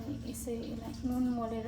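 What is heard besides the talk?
None of the usual background noises is heard.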